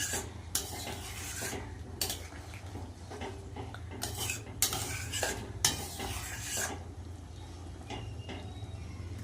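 Egg curry with potatoes is stirred in a pan, a spoon scraping and knocking against the metal in bursts over a faint simmering sizzle, fairly quiet and close.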